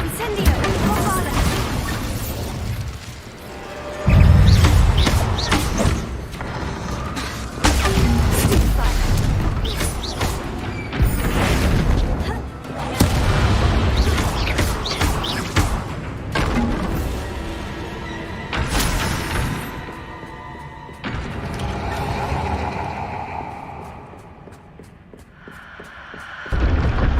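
Bombarda spell blasts in the Hogwarts Legacy video game: repeated heavy booms and crashing impacts, some with shattering debris, punch through a dense mix of combat effects and music, with voices speaking over the action.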